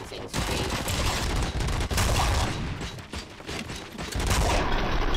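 Gunfire in the RoboCop: Rogue City video game: sustained, loud bursts of automatic fire and shots running almost continuously, with a voice speaking under the barrage.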